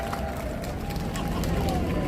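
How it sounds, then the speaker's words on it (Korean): A rally crowd at Gwanghwamun intersection applauds, a continuous broadband patter of many hands with a murmur of voices mixed in, holding steady from start to finish. "큰 박수 한번 부탁드립니다."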